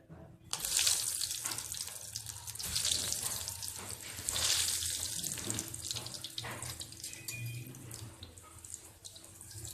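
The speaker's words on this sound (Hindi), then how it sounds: "इनको गोल्डन सा फ्राई करेंगे।" Potato lollipop balls deep-frying in a pan of hot oil, a steady loud hiss and crackle of bubbling that surges in waves, with no voices.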